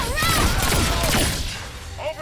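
Gunfire rattles in the action game Agents of Mayhem, a loud continuous barrage of rapid shots with booming impacts, mixed with game voices and effects throughout.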